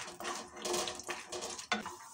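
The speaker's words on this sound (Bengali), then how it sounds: "বাদামগুলো একটু ভালো করে ভেজে নেব। একটু আঁচটা কমিয়ে দিয়ে বাদামটা ভেজে নেব" Peanuts frying on low heat in a pan for dalia upma, stirred with a spatula, giving scraping and rattling strokes over a soft sizzle, close and brief.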